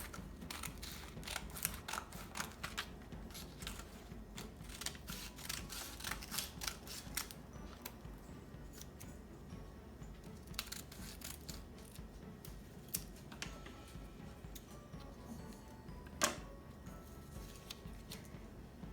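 Scissors snip through paper clippings in quick, steady, close-up cuts, faint but continuous, with no talking.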